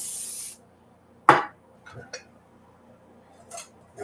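A brief hiss of cooking spray onto a baking sheet at the start, followed by a sharp metallic clatter and a few light knocks of the pan being handled.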